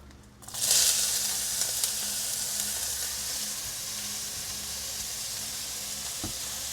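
Chopped onions drop into hot oil in a home kitchen while a Lunar New Year family feast is being cooked, setting off a sudden loud hiss that settles into a steady, close sizzle with no voices.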